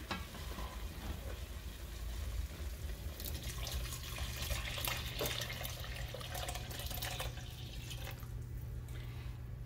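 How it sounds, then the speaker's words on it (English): Water pours steadily into a pot with a soft rushing splash, fairly quiet, with no talking. "We're going to add the water."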